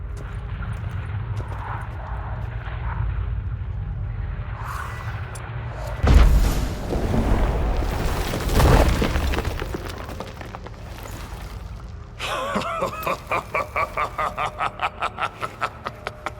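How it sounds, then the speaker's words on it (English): Stalagmites shattering in The Witcher 3, two heavy booming crashes with rumbling debris, followed by a rapid rattling pulse of crumbling rock. "The stalagmites! Destroy them!"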